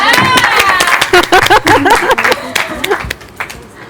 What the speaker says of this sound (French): Oh, on applaudit.